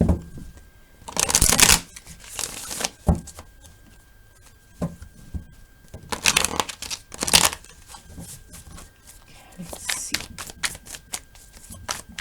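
An oracle card deck being shuffled in repeated bursts of crisp riffling and flicking, close and clear, with quiet pauses between the shuffles and no talking.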